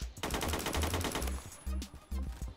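Rifle fire in the Roblox video game: rapid automatic bursts at first, then two spaced single shots, crisp and close, with no talking.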